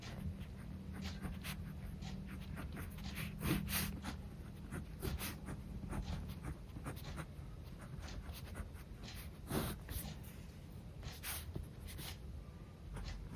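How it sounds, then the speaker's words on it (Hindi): A pen scratches out a maths formula by hand on paper in quick irregular strokes, faint and close, with no one speaking. "जांच करने के लिए हम फॉर्मूला लिखेंगे"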